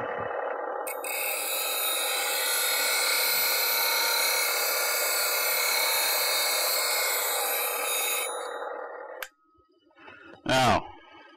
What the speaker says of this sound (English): I'll go ahead and sharpen this on the 180 over here so you can see what it's like.